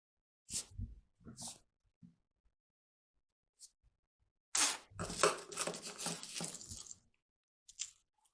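Scissors snip the end of crochet yarn on a reusable crocheted tampon: a few soft, scattered handling ticks, then a brief cluster of close rustling, crunchy cuts, quiet overall.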